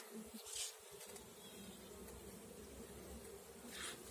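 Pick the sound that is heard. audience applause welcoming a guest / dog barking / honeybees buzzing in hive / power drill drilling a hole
honeybees buzzing in hive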